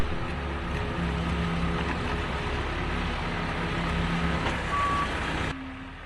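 A tracked excavator backs up on a concrete demolition site, its steady engine drone joined by a thin repeating reversing beep, with a machinery rumble throughout that drops slightly near the end.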